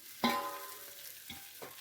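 Idli pieces being stirred with idli podi in a pan, giving a sharp scrape at the start followed by a soft sizzle and two lighter scraping touches, close by with no talk.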